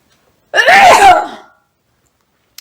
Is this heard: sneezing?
yes